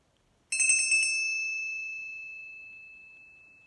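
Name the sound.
ringing of a bell during a prayer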